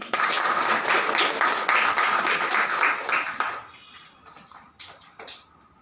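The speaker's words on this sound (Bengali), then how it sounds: "হাততালি দেন" Audience at a school celebration of International Mother Language Day and Chinese New Year applauds a group prize winner, dense clapping that holds for about three seconds, then thins into scattered claps and fades out.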